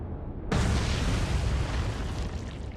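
A torpedo strikes a ship in Atlantic Fleet: after a brief quiet lead-in, a sudden loud explosion bursts out and rolls on as a thick, rumbling roar that slowly eases.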